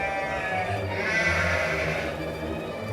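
Goats bleat on a mountainside in a mountain pastoral setting, a wavering, nasal cry swelling over a busy ambient bed of bells and background noise, moderately loud and sustained for a couple of seconds.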